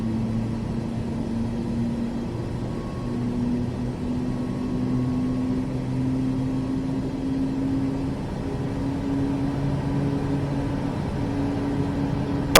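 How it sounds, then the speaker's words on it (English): Simulated airliner's number 2 jet engine spooling up during start in the MSFS 2024 flight simulator, a steady droning whine with slowly rising tones, constant and fairly loud throughout with no talk. "Alright, sounds like we're getting ignition on the number 2."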